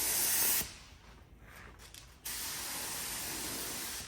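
Paint spray gun spraying paint, a loud steady hiss that cuts off briefly, gives way to quieter mechanical fiddling, then resumes as a long continuous spray.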